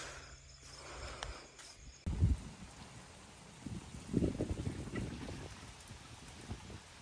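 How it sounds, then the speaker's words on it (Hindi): Steady rain falling with a soft, continuous patter, alone with no voices, growing denser after a brief lull at the start. "बारिश जो वो तेज़ हो चुकी है"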